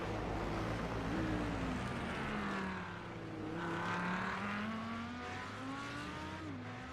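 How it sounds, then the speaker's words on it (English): Cadillac race car in the iRacing sim at Spa, its engine droning steadily with rising and falling revs as it accelerates and shifts, loud and continuous throughout. "Cadillac sounds cool though."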